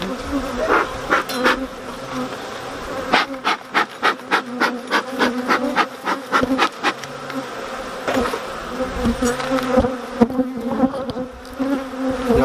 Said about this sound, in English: I've quite a few bees buzzing around me.